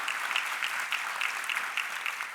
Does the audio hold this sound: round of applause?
yes